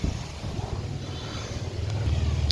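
Strong gusts of stormy wind blow during a thunderstorm, heard from a room as a rough, continuous rumble and buffeting with a steady hiss that grows slightly toward the end.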